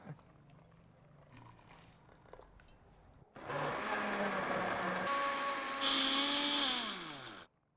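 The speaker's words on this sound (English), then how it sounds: "I can put this in the blender?" Blender whirring loudly as it purees melon with almond milk for a vegan galaktoboureko, starting abruptly after faint kitchen clatter, pitch shifting as the mix blends, then cutting off.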